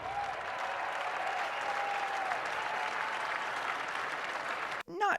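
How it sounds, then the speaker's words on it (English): A crowd at a Chicago Cubs baseball game gives a sustained ovation for Kyle Tucker, dense applause holding steady for several seconds before it cuts off. A brief burst of other sound follows at the end. "how about this little ovation for Kyle Tucker?"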